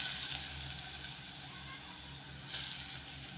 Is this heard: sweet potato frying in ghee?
yes